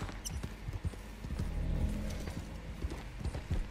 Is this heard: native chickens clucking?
no